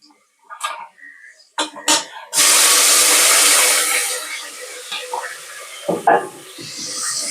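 Tomatoes dropped into hot tempering oil, a sudden loud sizzling hiss that bursts up and slowly fades, close by, with brief clatter and a voice around it.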